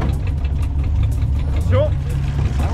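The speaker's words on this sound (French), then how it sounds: "je démarre la voiture" A car engine idles with a steady low rumble while people talk over it.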